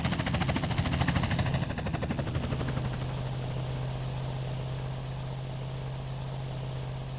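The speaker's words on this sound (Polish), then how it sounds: "Dobra, także lecimy za helikopterem." Helicopter in the video game Grand Theft Auto: United, a steady loud rotor and engine drone with a low hum throughout, slightly choppier at the start, no talk.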